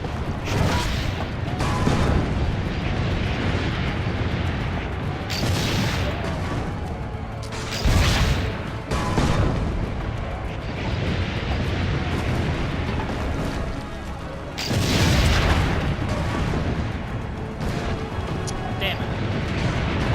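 Cannon fire in the video game Assassin's Creed Brotherhood: heavy booming blasts land every few seconds over dense continuous battle rumble and crashing, loud and close throughout.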